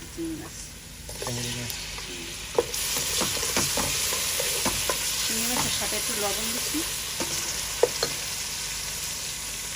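Shrimp added to a hot pan and stirred while frying, a steady sizzle with scraping and clinking of a spoon against the pan at intervals.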